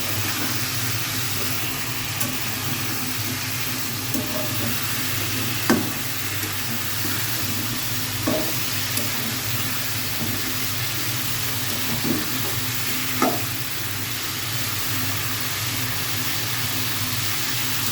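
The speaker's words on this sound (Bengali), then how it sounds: "ডালটা দিয়ে এবার আমি ভালো করে এটাকে কষাই নিব।" Washed masoor lentils and drumstick pods sizzle steadily in a pan as they are stirred and fried, with a soft spoon tap or knock every few seconds over the constant frying hiss.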